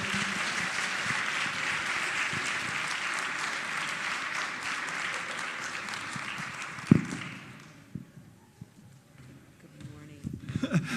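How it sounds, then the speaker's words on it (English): An audience applauds at a student recognition ceremony as a speaker walks to the stage, steady clapping for about seven seconds before it thins out and dies away into faint room noise and shuffling. "We could give him a round of applause as he makes his way."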